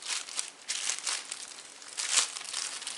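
Plastic package being ripped open by hand, a continuous close crinkling and tearing rustle with a few louder crackling bursts, no talk.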